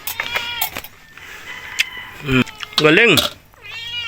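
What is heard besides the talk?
cat meowing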